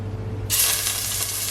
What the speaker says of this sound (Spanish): Voy a dorar el pollo